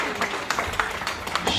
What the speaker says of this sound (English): let us all give her a great round of applause